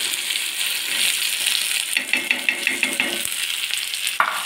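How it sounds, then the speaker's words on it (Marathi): Okra going into very hot oil in a pan already crackling with cumin and mustard seeds, with a steady close sizzle and a run of sharp pops and clinks toward the end, no talking. "आता चला तर मग आता आपण याच्यामध्ये भेंडी घालणार आहे."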